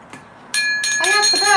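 A bright bell rings out sharply and sustains with clear ringing overtones, loud and close, after a brief quiet lead-in.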